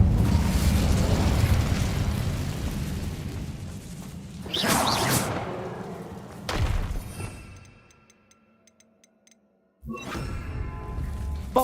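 Incendio fire spell cast in Hogwarts Legacy, a loud roaring burst with fiery whooshes and explosive swells, dropping briefly to near silence before flaring up again.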